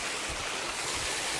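A shallow outdoor creek flows in a continuous, close hiss of rushing water with a soft low burble underneath.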